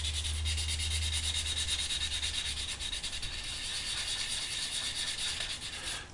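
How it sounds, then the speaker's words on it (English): Steady abrasive rubbing of a fine Miracle Finish sanding sponge over the plastic parts of a Hasegawa 1/48 F-4J Phantom model kit, continuous and close, with no speech. "we use a very fine a Miracle Finish sanding sponge"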